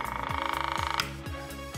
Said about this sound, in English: It is a good idea to turn the ticker timer on so that you can get the full resistance.